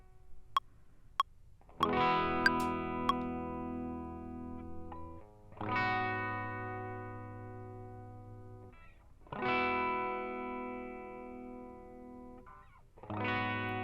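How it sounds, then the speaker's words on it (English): An electric guitar plays sustained, effects-laden chords, each ringing out and fading before the next strum, preceded by a few short plucked notes. "I've got this guitar file. We're just gonna listen to it unwarped here."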